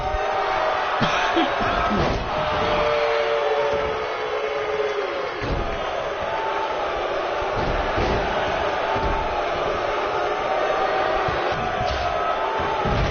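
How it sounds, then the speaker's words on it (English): A wrestling video game crowd, loud and constant, roaring and cheering through a match, with occasional thuds and slams from the ring cutting through the steady din. "Definitely going to have to turn down the crowd volume."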